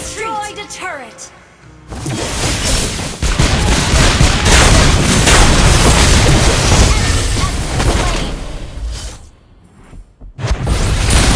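Dense, loud booms and rapid gunfire-like blasts pile up in a mobile battle game as a turret is destroyed. A continuous roar of explosions and whooshes runs for several seconds, and announcer voices are heard around it.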